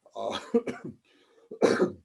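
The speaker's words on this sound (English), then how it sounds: "I'm still getting over a cough" Two bursts of harsh coughing, close and loud, separated by a brief quiet pause.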